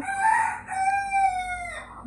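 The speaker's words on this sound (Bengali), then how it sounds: "মোরগটা ডাকার সময় নাই" A rooster crows once, loud and near, with a short rising opening and a long drawn-out tonal call that trails off, alone without talk.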